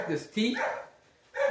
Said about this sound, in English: Hold on, there's a dog barking.